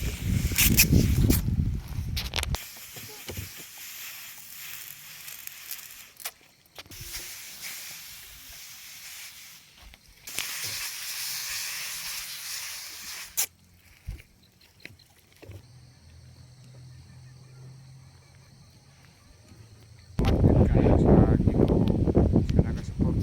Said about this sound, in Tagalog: karon naman sa pag-abono mag-spray na pud mi sa among kape